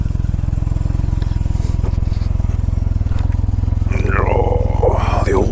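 A Can-Am Ryker three-wheeled motorcycle idles with a steady, loud pulsing engine rumble close by, then begins to pull away as a rising whine joins it.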